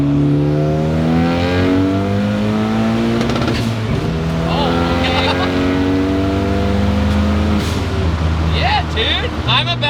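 A Ford Escape's swapped 425 hp turbocharged Mustang engine revs hard and climbs in pitch, drops briefly at a gear change, then pulls up again, loud and close from inside the cabin.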